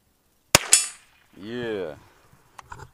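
Two sharp gunshots crack close together at the start, followed by a voice and a few small metallic clicks of the gun being handled.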